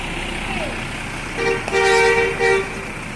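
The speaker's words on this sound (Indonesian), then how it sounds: "bus ini meninggalkan Bukit Sulungan, terminal Bukit Sulungan menuju kota Jakarta" An ALS bus with a Hino engine pulls out of Bukit Sulungan terminal, its horn giving two or three loud tonal toots over a running engine, with a voice talking nearby.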